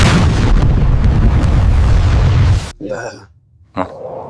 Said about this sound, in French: Prêt à décoller, Greg?